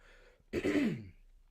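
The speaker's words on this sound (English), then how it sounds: "please bear with me if I am clearing my throat" One person with allergies clears their throat once, a short rough rasp rising out of near silence and fading quickly, close up.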